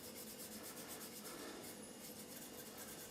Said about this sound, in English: I'm just putting on another coat of Tru Oil with my finger